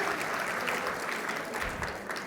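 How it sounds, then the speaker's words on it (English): Conference audience giving panelists another round of applause, a continuous dense wash of clapping from a large crowd throughout. "Let's give them another round of applause."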